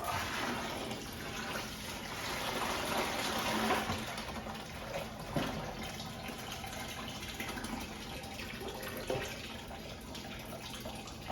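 Water drains steadily out of a water softener resin tank, a continuous rushing, splashing flow heard close and moderately loud with slight surges.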